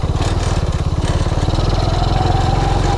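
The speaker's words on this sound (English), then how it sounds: "That kind of engine slowed itself down." Engine of a TaoTao ATA 135D ATV running steadily close by, a loud, continuous low throbbing with a fast, even pulse and no voices.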